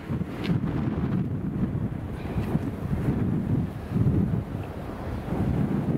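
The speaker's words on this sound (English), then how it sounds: "It's just quite windy in here." Steady wind buffeting the microphone outdoors beside a Jackery Explorer 500 and SolarSaga 100W solar panel, a low rumbling roar throughout with no talking.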